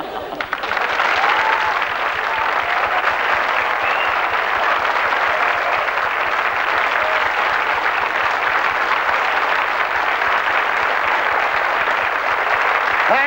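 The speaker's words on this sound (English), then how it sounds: "Thank you for that thunderous applause." Sustained, dense studio audience applause at a 1983 TV game show fills the room, steady and loud from start to finish, with a few faint cheers and voices mixed in.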